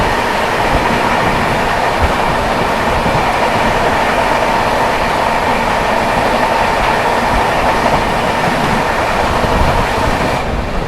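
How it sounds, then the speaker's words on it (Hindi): The Bhagalpur–Anand Vihar Vikramshila Express passing close by, a loud, unbroken roar of wheels and rumbling carriages with rhythmic clatter, filling the whole stretch without letting up. "भागलपुर आनंद विहार विक्रमशिला एक्सप्रेस।"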